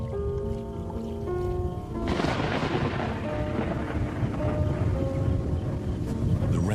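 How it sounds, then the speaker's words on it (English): A rainstorm sweeps over lion country, with deep rolling thunder that swells sharply midway over a steady wash of heavy rain and no talking. "Rainstorm brings healing and relief to the land and the lions."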